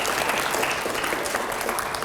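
A TV studio audience at a political debate show claps in a dense, even burst of applause, loud and continuous throughout.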